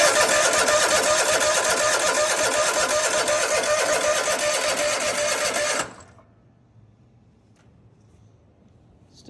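A Cub Cadet zero-turn mower engine cranks without catching, with a steady mechanical whirring for about six seconds that then cuts off abruptly to near silence.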